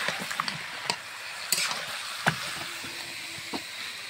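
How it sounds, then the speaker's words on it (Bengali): Mutton being stirred in an oily pan with onion, garlic and chilli, a faint sizzle under a series of scraping spoon strokes and light clinks, no one talking. "মাংসটা একটু নাড়াচাড়া করলি সুন্দর করে"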